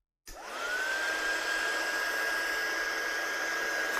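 A hair dryer or heat tool blows over freshly inked handmade cards, switching on after a short silence into a steady, even whoosh with a thin constant whine that holds at the same level throughout.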